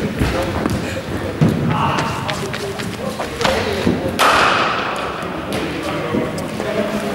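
Bat striking ball in indoor winter cricket nets, a few sharp knocks echoing in a reverberant hall among steady background noise and people talking.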